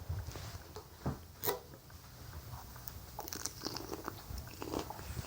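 Crunchy bites of food while eating spicy things, soft scattered crunches and chewing noises at close range, faint and irregular against a quiet background.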